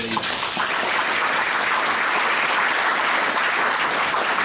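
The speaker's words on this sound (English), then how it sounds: "a round of applause for our county staff" Dense, sustained audience applause for county staff fills the whole stretch at a loud, even level, with no pauses.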